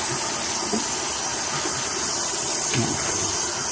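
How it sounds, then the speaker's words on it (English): A tap runs steadily while hands are rinsed off, a close, loud, continuous hiss of flowing water with slight splashing changes partway through. "So let me just rinse off my hands."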